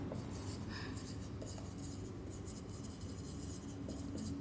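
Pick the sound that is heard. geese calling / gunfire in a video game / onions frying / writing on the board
writing on the board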